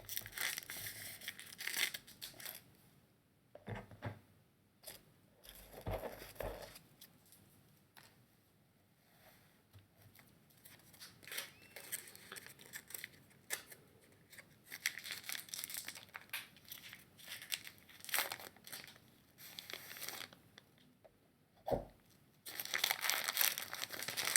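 Repeated crinkly foil Magic: The Gathering booster packs being torn and ripped open, close up, with intermittent crackling bursts and short pauses between tears.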